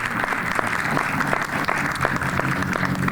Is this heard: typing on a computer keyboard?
no